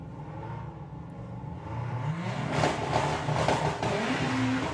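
A VW drag race car at Santa Pod roars and revs from a distance, its engine note rising to a louder, rougher burst midway, with no voices.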